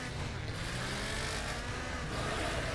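Race car engines in the Wreckfest video game, modded, on the Elevated Eight track, roar in a steady, dense drone that fills every moment with no pauses.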